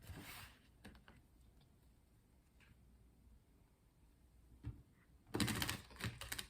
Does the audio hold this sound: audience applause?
no